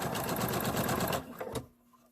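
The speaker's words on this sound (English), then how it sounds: "I'm going to start sewing again" A sewing machine stitches a fabric egg in a close, steady run of rapid mechanical needle clatter for over a second, then a few short bursts before it stops into quiet.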